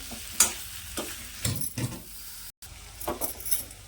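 Potatoes are stirred and fried in spice masala in a pan for a brinjal-potato curry. A few close, sizzling scrapes come in short strokes over a soft frying hiss, with no talking.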